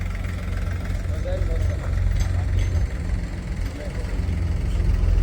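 A tractor engine idles at a farm where pits are being dug and filled with soil, giving a steady, close low rumble throughout, with some talk in the background.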